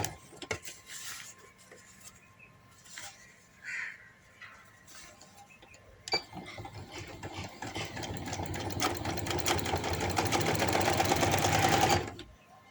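A sewing machine stitches the seam of a boy's pajama pant, starting after a few quiet handling noises and running as a continuous rapid whirring hum that grows steadily louder before stopping abruptly.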